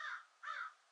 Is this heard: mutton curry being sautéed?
no